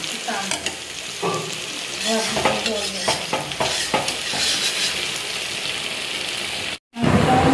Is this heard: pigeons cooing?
no